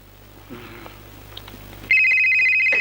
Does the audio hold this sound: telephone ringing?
yes